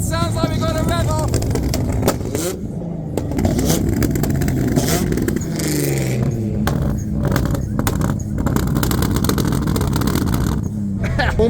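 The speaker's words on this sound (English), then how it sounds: "it sounds like we got a rev off." Car engines rev and roar loudly outdoors at a car show in a continuous, busy rumble, with people talking and crowd noise mixed throughout.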